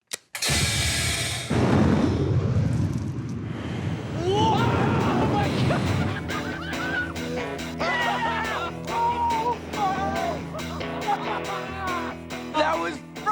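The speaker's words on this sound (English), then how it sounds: "Non-dairy creamer cannon!" A non-dairy creamer cannon fires with a loud broadband blast that rolls into a long roaring, crackling whoosh; excited voices talk and shout over the tail of the burst.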